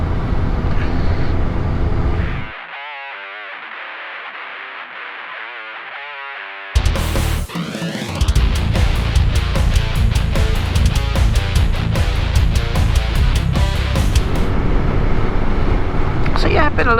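A Honda Blackbird CBR1100XX motorcycle heard on a ride after a fork service, with loud wind roar and engine drone, a brief quieter patch, then the speed building again while a rider talks over it.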